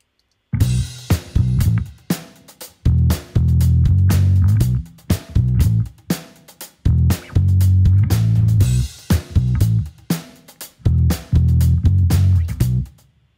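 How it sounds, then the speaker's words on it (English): A funk groove of slap-style bass locked with a New York Avatar drum kit on a monofunk preset from Superior Drummer, loud and punchy with tight stop-start rhythmic breaks, played alone without talk. "drums and bass together sounds like this"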